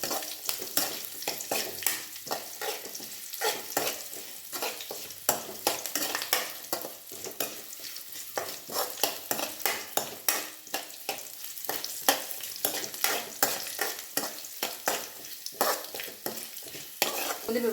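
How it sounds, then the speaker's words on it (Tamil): Cashew nuts roast in a pan for pongal, a busy run of close scraping stirs and light sizzling crackle that keeps going steadily with no voices over it. "முந்திரி பருப்பு நல்லா தவந்துருச்சு"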